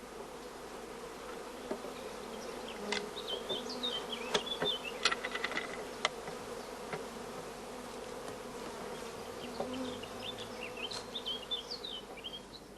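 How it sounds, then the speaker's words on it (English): A starter colony of honey bees with many young bees emerging, a dense steady hum of buzzing wings close by, with individual bees flying past in brief louder passes and faint chirps. "many young bees are emerging in the starter colony"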